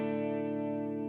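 A clean electric guitar tone from a Line 6 Helix, set with reverb and a quarter-note delay, rings as one sustained chord, steady and moderately loud, with no talk.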